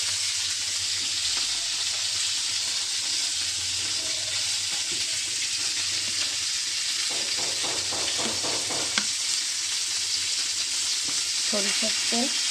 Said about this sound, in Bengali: এর মধ্যে দিয়ে দেবো একটু সরিষার তেল